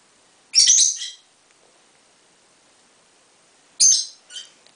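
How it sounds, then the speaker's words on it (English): Pet lovebirds squawk in two short, sharp bursts a few seconds apart, fairly close and shrill, with near silence between them. "you can hear the birds in the background"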